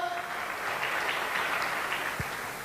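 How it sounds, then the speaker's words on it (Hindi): A crowd breaks into a burst of enthusiastic clapping, dense and steady, lasting a couple of seconds. "जोरदार तालियां दोस्तों,"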